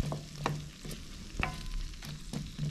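Moose sausage and peppers fry in a pan in a log cabin, giving a soft, steady sizzle with a few scraping stirs, close and fairly quiet, with no talk.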